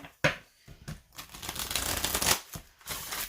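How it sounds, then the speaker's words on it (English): A deck of ritual cards is riffled and shuffled close by, with sharp snapping bursts followed by a fluttering cascade of cards. "This deck seems pretty easy to shuffle as well."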